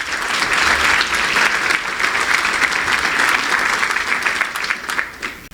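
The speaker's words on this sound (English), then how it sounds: "Big round of applause for all of them" An audience at an Arizona honors ceremony breaks into sustained, dense applause lasting several seconds before it tapers off near the end.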